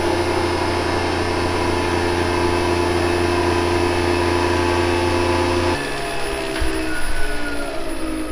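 A maple sap vacuum pump runs after being switched on, giving a loud, steady mechanical whine and hum that shifts abruptly in pitch partway through, with no speech.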